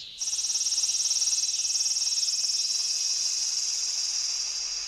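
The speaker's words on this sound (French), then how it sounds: "C'est fou le chant des cigales, c'est tellement fort." Cicadas singing loudly and continuously in the anime Steins;Gate, a shrill pulsing buzz that starts abruptly and holds steady, close by and alone.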